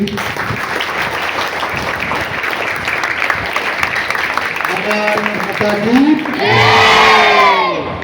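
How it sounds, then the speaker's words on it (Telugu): Students at a school, Saraswathi High School in Garshakurthi, clap and cheer for their trainers, a loud crowd of applause and whoops building near the end, with voices shouting over the steady clapping. "వాళ్ళ కోసం గట్టిగా ఒకసారి చప్పట్లు కొట్టేసి"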